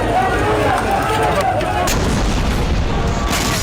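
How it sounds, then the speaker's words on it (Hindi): Artillery fire during Israeli attacks on Gaza: a dense, continuous rumble of heavy low booms and crackling gunfire, loud and sustained throughout with no clear gaps. "इजराइल अचानक गाजा पर इतने भीषण हमले क्यों कर रहा है?"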